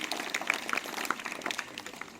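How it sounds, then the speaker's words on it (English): Audience applause at an Earth Day celebration at a school, a soft, dense patter of many hands clapping at some distance, steady for a couple of seconds with no voices on top. "please give them a big round of applause for their sincere efforts"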